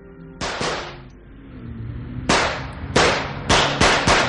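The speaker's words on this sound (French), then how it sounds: "tirant des coups de feu, firent stopper la voiture." Sharp gunshots crack in an irregular burst, several loud reports with echoing tails, some fired in quick succession.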